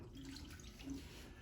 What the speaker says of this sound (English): So I dump a little water in there.